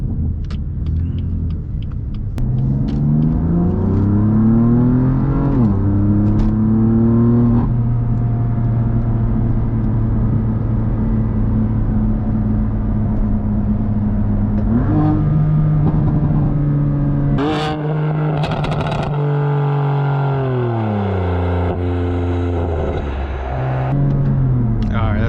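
A 2018 BMW F80 M3 Competition with a DCT gearbox revs under throttle from inside the cabin, its engine note climbing and dropping in repeated loud sweeps over a steady rumble, with brief shifts in pitch between pulls.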